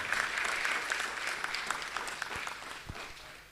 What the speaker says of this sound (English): with a huge round of applause to you